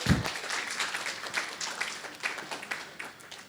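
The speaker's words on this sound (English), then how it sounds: "A round of applause for yourselves" Audience clapping at a Rotary Club presidential investiture in Accra, moderately quiet, scattered and uneven claps rolling on for a few seconds after a brief low thump at the start.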